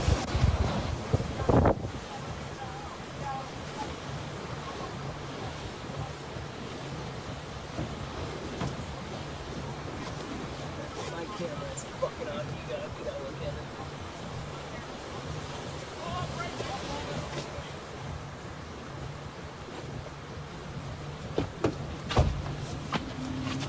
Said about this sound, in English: Conditions are definitely deteriorating out here right now. Starting to get bad. I'd say gusting 80 miles an hour or so.